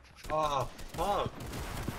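Bursts of Fortnite gunfire crackle at close range, tangled with loud voices. A looser spray of shots follows near the end.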